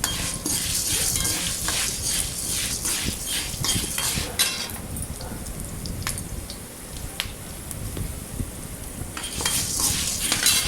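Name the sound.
roasting black urad dal with dried chillies in a pan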